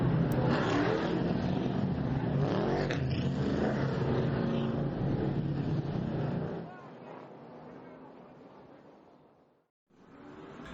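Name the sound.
race cars running hot laps at speedway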